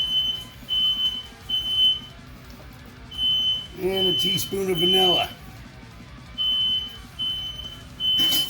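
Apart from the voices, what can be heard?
smoke alarm beeping in kitchen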